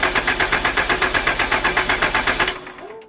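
A 12 valve Cummins diesel engine cranks over in a fast, even rhythmic chug of about eight beats per second for two and a half seconds without catching, then stops abruptly, close and loud.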